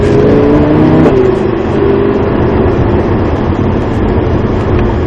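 A Lamborghini accelerates on the Montlhéry circuit, its engine rising in pitch briefly before settling into a loud, steady roar with heavy rumble and wind noise, heard up close.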